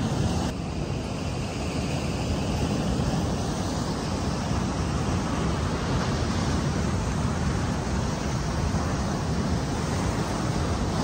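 Ocean surf washes along the shore in a continuous, even roar, mixed with wind buffeting the microphone, steady and fairly loud with no voices.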